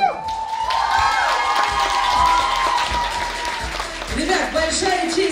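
At an awards ceremony for young people, the crowd breaks into loud, sustained applause mixed with cheers and shouts, with voices calling out over the clapping.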